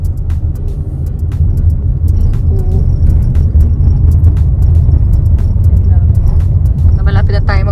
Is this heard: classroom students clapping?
no